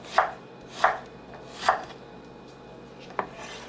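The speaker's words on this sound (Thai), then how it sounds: "พริกหวานแอนโบไลนะคะ หั่นแตงอยากหั่นจังใดก็หั่นนะจ๊ะตามใจชอบ" Four crisp knife chops slicing a bell pepper on a cutting board, evenly spaced, the last one a little sharper, with quiet pauses between them.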